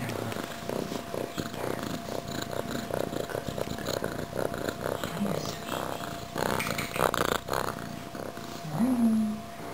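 An F2 Savannah kitten purrs close up in a steady, rhythmic rattle of repeated pulses, with faint human sounds and small rustles mixed in.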